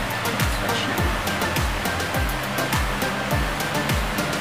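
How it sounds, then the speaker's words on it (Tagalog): An electric fan runs with a steady, loud whooshing roar and a low rhythmic thump repeating about twice a second, close by, with no clear talk over it. "Yung electric fan kasi."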